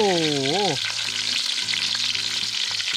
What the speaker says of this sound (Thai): เดี๋ยวเราต้องใส่เกลือลงไปนะ ก็จะทำให้เนื้อปลานะครับไม่ติดกระทะนะครับ